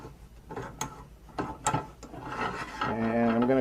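A bench vise is cranked tight on a part from a Safety Speed Cut H4 panel saw counterbalance, giving close, sharp ratcheting clicks and metal-on-wood rubbing that give way to a rising mechanical whir.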